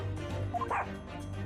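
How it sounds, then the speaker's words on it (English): A cute little dog in the video game Great Ace Attorney gives a few short yips and barks over a steady background music bed. "Cute little doggy."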